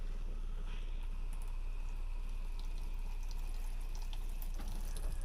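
Water rushes steadily through camper plumbing lines during flushing, a constant faint hiss and trickle with a few small drips, no voices.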